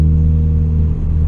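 A steady low cabin drone hums inside a 2016 Ford Focus RS cruising at a constant 53 mph in 5th gear, an even, loud engine-and-road hum with no acceleration and no talking.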